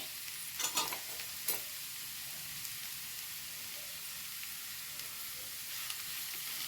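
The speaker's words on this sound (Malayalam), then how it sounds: "ഇളക്കി കൊടുക്കാം" Curry leaves sizzle and crackle in hot oil in a pan while being stirred for an egg fry, with a few sharp spatter pops early on over a steady, soft frying hiss.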